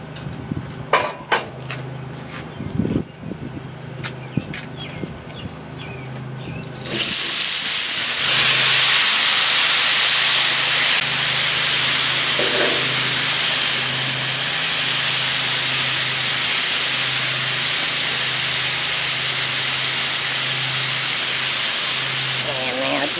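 Chicken and potatoes hit a hot Yukon Glory griddle and a loud, steady sizzle and hiss takes over, continuing strongly after some brief clatter and faint sounds at the start.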